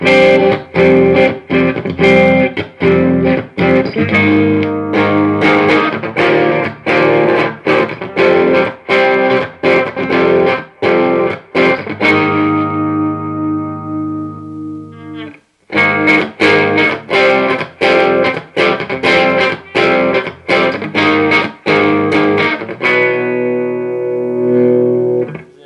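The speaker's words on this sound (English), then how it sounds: "This is considered the crunch channel." A crunchy, distorted electric guitar through a Marshall JCM 2000 DSL 50 amp's crunch channel plays chords and repeated strums, loud and close, with one chord ringing out before playing resumes.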